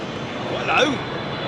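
A Qatar Airways cargo freighter roars at Heathrow as a steady broadband jet rush, swelling briefly near the middle, with a voice talking over it.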